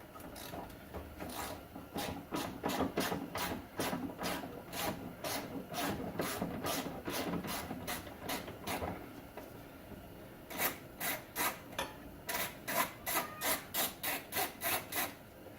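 A ratchet loosens the rear shock top bolts on a 2007 Nissan Altima, giving long runs of rapid, evenly spaced clicking, close and fairly quiet, with a short pause before a final burst.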